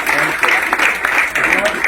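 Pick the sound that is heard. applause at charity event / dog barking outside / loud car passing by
applause at charity event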